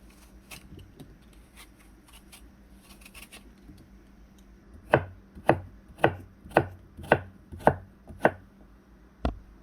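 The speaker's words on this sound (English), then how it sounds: "You want to peel them and then chop them down." Peeled Granny Smith apples being chopped on a board: soft knife scraping early on, then a steady run of about eight sharp, close chops, evenly spaced and clear, with no talking.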